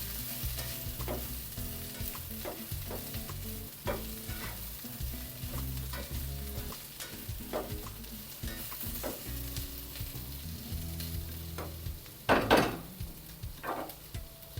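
Curry leaves fry in a pan with a steady close sizzle and crackle, broken by scraping spoon strokes and a louder burst of spattering near the end.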